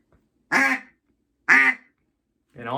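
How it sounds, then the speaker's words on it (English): A Slayer Drake Slayer double reed duck call sounds three short, evenly spaced raspy quacks, loud and close, with silence between them and no talk. "I'll just tend to just do some quacks here and there"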